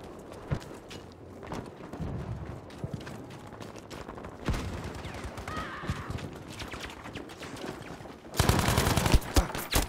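Bursts of gunfire in Battlefield 5 conquest combat, rapid rattling volleys and scattered shots mixed with clattering movement and battle noise, ending in a louder sustained stretch of firing.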